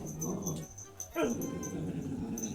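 A dog whimpers and yips softly indoors, thin high whines rising briefly over a quiet background, with faint low murmuring nearby.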